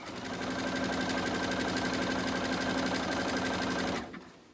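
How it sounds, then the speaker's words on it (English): A sewing machine stitching over a fabric pocket through several layers, a steady rapid mechanical whir that runs continuously and close for about four seconds before stopping abruptly, with no talking. "I'm sewing over the pocket right now"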